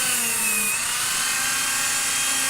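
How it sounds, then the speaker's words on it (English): Cordless Dremel rotary tool running close by, a steady high-pitched whine with a faint pitch shift, held continuously and loud. "Now I'm using a cordless Dremel, but it really doesn't matter."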